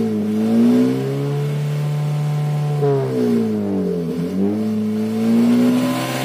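A drag race vehicle's engine revs hard at a national drag racing championship, pitch climbing and falling in long sweeps as it winds up toward 8,000 RPM, loud and steady with no talk.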